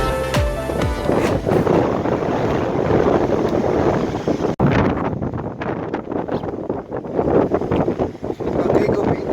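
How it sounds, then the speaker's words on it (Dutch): Strong wind on the False Bay coast along Clarence Drive, blowing loud and steady across the microphone with a surf-like rush beneath, filling the whole clip. "die wind is op bij ons hier"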